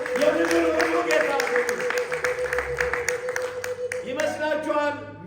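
Church congregation clapping and ululating, a continuous rattle of hands under a high sustained trilling call, with a voice speaking over it near the start and end.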